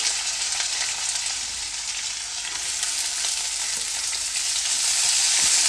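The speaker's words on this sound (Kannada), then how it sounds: "ಈರುಳ್ಳಿದು ಸ್ವಲ್ಪ ಹಸಿ ವಾಸನೆ ಹೋಗೋವರೆಗೂ ಫ್ರೈ ಮಾಡ್ಕೊಳ್ಳಿ" Finely chopped onions frying in a pan give a steady, bright sizzle that holds evenly and close throughout, with no voices.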